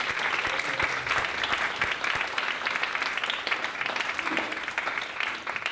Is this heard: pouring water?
no